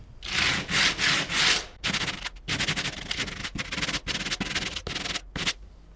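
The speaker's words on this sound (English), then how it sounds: "So what you're gonna do is do some crunchy sanding." Coarse 60-grit sandpaper scrubs over a painted surface roughened with sawdust texture, a close run of rapid rasping strokes with short pauses between bursts.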